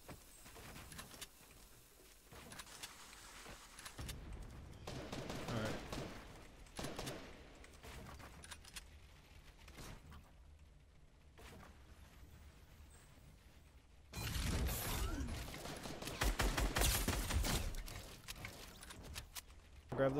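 Gunfire in Fortnite Battle Royale: bursts of shots crackle through a steady game soundscape, with a fuller, louder volley arriving later, moderately distant.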